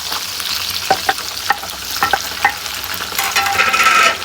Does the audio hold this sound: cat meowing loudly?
no